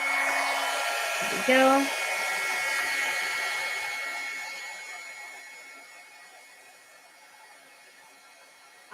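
A heat embossing tool melting embossing powder on cardstock gives a steady, close whirring blow that slowly fades, with a brief spoken remark near the start.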